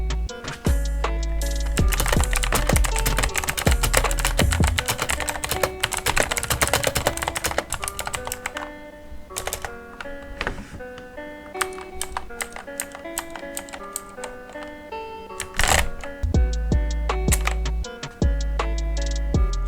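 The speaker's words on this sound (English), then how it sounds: "loud noises mechanical keyboards make" Fast, continuous clacking of a mechanical keyboard with clicky blue switches, loud and close, with a few brief pauses between bursts of typing.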